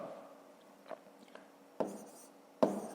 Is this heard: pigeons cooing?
no